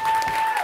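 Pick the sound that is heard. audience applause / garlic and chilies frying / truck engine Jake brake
audience applause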